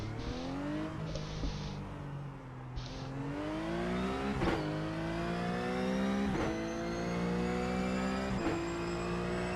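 A race car engine in the iRacing sim revs and shifts through gears, loud and continuous, with pitch climbing and dropping repeatedly and brief tire squeals near the start.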